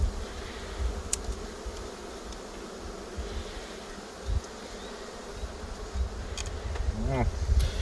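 A dense, steady hum of many honeybees buzzing close by at a hive in spring in eastern Poland, with occasional louder passes of single bees near the microphone.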